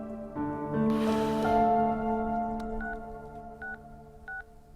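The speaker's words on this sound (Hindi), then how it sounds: "भाभी को फोन कर।" Three short dual-tone phone dialing beeps, evenly spaced, come after a loud, sustained droning tone fades into a low background rumble.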